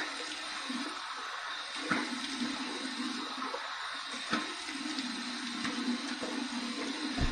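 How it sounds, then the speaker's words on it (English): Warm water runs steadily from a tap for a shaving rinse, a continuous soft rush with faint splashes and clicks. "Here's my warm water rinse."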